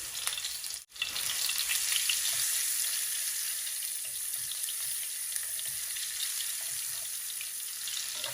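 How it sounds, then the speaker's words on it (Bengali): Two or three garlic cloves hit hot oil with a sharp crackle, then sizzle and fry steadily and loudly, with a busy hiss and fine pops, for a radish fry dish flavored with fenugreek seeds. "তেল গরম হয়ে গেছে, এখন দিলাম 2-3 কোয়া রসুন।"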